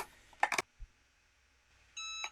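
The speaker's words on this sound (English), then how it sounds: "After your timer goes off, place your Easy Press back on the base" A Cricut EasyPress timer sounds a steady electronic beep near the end, after a couple of brief handling clatters and a short thump, with quiet room tone in between.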